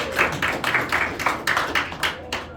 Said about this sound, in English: A round of applause for Megan.